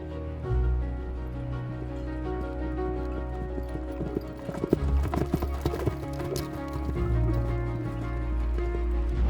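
Horses on a trail ride in the south of France, hooves clip-clopping in a steady walking rhythm, close and continuous, with an occasional whinny and faint voices in the background.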